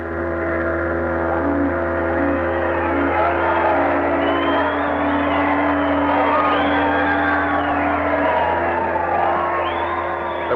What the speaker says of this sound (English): There was shouting and rejoicing.